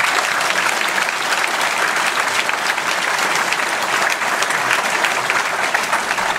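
Dense, steady applause from a large crowd at a François Fillon political rally in Périgueux, loud and sustained throughout with no voices on top.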